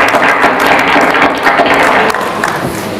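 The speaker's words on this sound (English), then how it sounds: "Give God a clap offering for wisdom" A church congregation clapping together as a clap offering, a dense, steady wash of applause from many hands that eases slightly toward the end.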